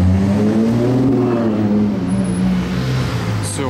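A Ferrari 812 Competition's engine drones loud and close on a Monaco street during the Grand Prix weekend, its low, steady growl swelling slightly and easing off over a few seconds, with no talking.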